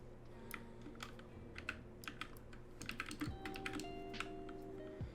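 Fingers type on a Royal Clutch computer keyboard, giving a run of quick, crisp key clicks at an irregular pace, close and fairly quiet, over a faint electronic hum.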